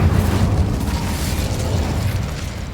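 The Incendio fire spell being cast in the Hogwarts Legacy video game gives a sustained, loud, roaring burst with a low rumbling body that fades slightly toward the end.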